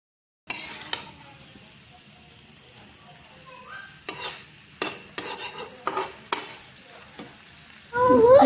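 Ginger garlic paste and spices for chicken curry frying in a pan, a soft, low sizzle broken by several sharp scrapes of a spoon stirring, ending in a louder burst of sizzling.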